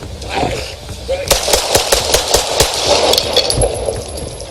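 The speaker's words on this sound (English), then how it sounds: "shots fired" Police officers in Escondido, California open fire with live rounds on a suspect advancing with a metal pipe or crowbar. A rapid volley of loud, close gunshots cracks out over several seconds, with voices in the background.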